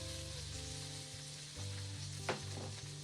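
Frozen peas sizzle in a hot wok, giving a steady, close frying hiss with a low hum underneath and a single sharp clack partway through.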